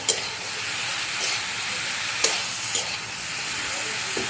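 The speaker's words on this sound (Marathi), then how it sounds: "आपण मसाला चांगलासा परतून घेतला ना आपला मसाला सुद्धा चांगलासा तयार होणार आहे." Masala for paneer bhaji sautéing in a pan, giving a steady, close sizzle with a few sharp scrapes and taps from stirring throughout.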